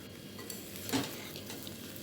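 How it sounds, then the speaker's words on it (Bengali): Potatoes with spices are stirred and fried in a pan for a potato curry, a soft steady sizzle with one faint scrape of the spoon, quiet and close. "আলুটার সাথে মশলা এভাবে মিশিয়ে নিয়েছি।"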